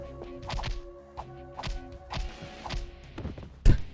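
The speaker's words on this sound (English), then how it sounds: "Kick the werewolf to death" Kicks and punches landing on a werewolf in The Simpsons PS1 video game, a run of dull, repeated thunks and thuds over looping game music, ending in one louder impact.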